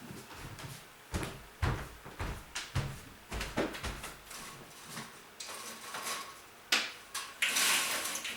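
A room door opened on a sunny day, with irregular knocks, thumps and clatters of handling the door, moderately close and fairly quiet, ending in a brief rush of outdoor air or noise.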